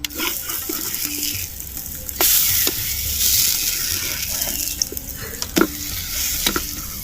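A pearl millet and potato roti fries on a pan over a medium flame, giving a steady, close sizzle throughout, broken by a few sharp clicks and taps as it is handled.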